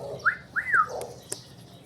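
A few short human whistles calling a pigeon, rising and sliding, sound out close by against a quiet background, with a faint click near the end.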